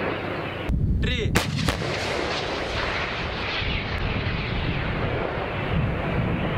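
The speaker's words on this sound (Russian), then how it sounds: "Первый выстрел." A single heavy shot from a Russian 2S19 Msta self-propelled howitzer booms close by, followed by a long rumbling roar that echoes and fades slowly.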